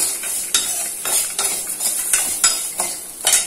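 Chillies, garlic, tamarind and urad dal being sautéed in a pan: a steady bright sizzle punctuated by about eight rhythmic scrapes and knocks of a stirring spoon against the metal, close and clear, with no speech.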